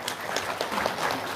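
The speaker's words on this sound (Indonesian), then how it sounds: "Tepuk tangan dong." Audience applause at a religious talk, a steady wash of clapping across the short clip with faint crowd murmur.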